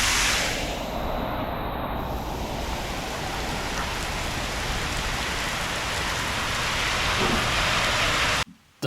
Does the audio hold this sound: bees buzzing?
no